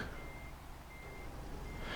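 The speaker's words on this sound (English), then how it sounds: "Let's back up the truck." Reversing beeps from a truck in Euro Truck Simulator 2 repeat in slow, even pulses at a steady level over a continuous low engine rumble, with no voices.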